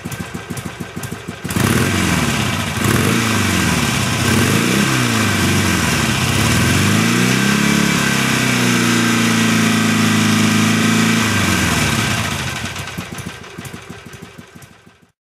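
A Harley-Davidson Sportster 1200 engine idles with a loping low thump, is revved up and down several times to a sustained raised speed, then settles back, loud and close with no voices.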